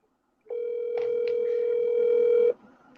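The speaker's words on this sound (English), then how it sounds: "The phone ringing." A telephone rings on an outgoing call, a single steady electronic ring tone lasting about two seconds, close and clear against a quiet background, followed by faint room noise.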